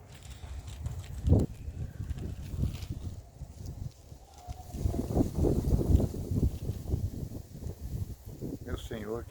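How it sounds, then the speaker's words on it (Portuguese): Cold late-winter wind blows through a Portuguese-language audio drama, a rough, rumbling gusty roar that swells and fades over several seconds, fairly close and full, with a short higher warbling sound near the end. "Meu Senhor, que vento é esse?"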